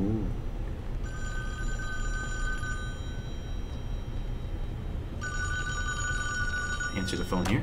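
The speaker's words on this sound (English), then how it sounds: "That's going to have the phone ringing." A telephone rings twice inside the Friday the 13th video game, a steady electronic trilling bell in two long bursts with a gap between, set over a constant low background rumble.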